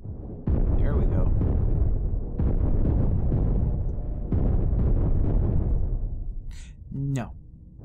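Heavy guns and cannons fire in the space combat game Cosmoteer, producing a sustained loud rumbling barrage of booms with a few sharper bursts, and a voice briefly speaks near the end.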